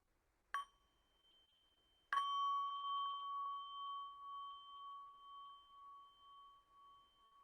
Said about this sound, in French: Je fais un petit son de cloche avant.